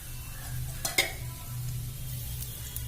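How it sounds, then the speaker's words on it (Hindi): Oil goes into a hot kadhai for stuffed karela, giving a soft, steady sizzle with a couple of sharp metallic clinks near the start; the sound is close and quiet, and no one speaks. "अब ए कढ़ाई में हम तेल डाले छिए"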